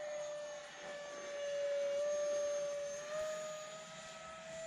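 Arrows Viper RC model jet flying on a 4S battery, a steady high electric ducted-fan whine that swells and fades slightly as it passes, heard alone at moderate distance.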